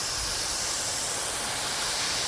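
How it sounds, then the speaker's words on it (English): Steady hissing spray of water rinsing a K&N whole-house air filter, running continuously at close range, broadband and unbroken, with no voices. "Make sure you get good clean water"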